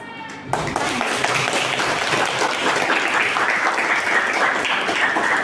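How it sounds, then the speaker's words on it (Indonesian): Classroom applause from a group of students, a sudden burst of dense, steady clapping that starts after a brief moment and continues evenly, close and fairly loud. "Semuanya beri aplaus."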